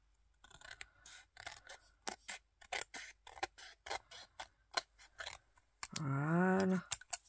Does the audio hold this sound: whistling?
no